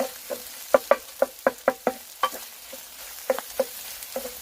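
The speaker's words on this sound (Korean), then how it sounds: "밥 넣고 볶는 거야?" Fried rice stir-fried in a pan at an outdoor campsite, with sharp scraping clacks of a utensil against the pan in an irregular rhythm over a soft sizzle, close and fairly loud.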